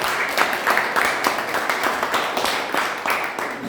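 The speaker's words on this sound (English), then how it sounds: "Let's have a big round of applause for them" Sustained applause from a room of attendees at a Toastmasters club meeting welcomes new members, a steady dense wash of many hands clapping at once with no voices.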